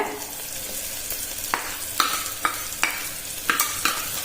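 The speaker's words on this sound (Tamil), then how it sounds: "இப்போ இஞ்சி நசுக்கி வச்சிருக்கிறத சேர்த்துக்கிறேங்க" Crushed ginger hits hot oil in a pan with green chilies and bay leaves, frying with a steady low sizzle while a spoon scrapes and stirs in a series of sharp clinks about every half second.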